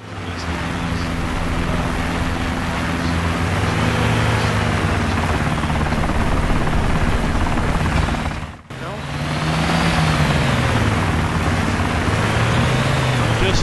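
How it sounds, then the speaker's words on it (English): A helicopter in the DayZ video game thrums with a loud, steady rotor drone and wavering engine pitch, continuous and close, with one brief dropout partway through. "There's a helicopter on the top of the hill shooting the fucking Osprey."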